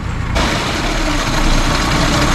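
A Datsun 210 with its original small exhaust idles with a steady, broad mechanical hum and a fairly loud, even whirr that persists unchanged throughout.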